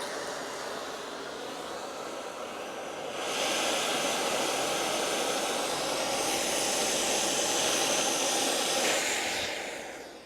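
A torch roars steadily while heating a grub screw on a Victa two-stroke go-kart part, a close, continuous broadband hiss that swells louder partway through.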